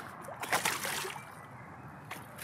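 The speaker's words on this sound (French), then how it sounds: "Petite éclaboussure au passage." A fish released back into river water while sight fishing from a bank lined with piled-up branches, heard as a short, soft splash and slosh, fairly close and fading quickly into quiet water.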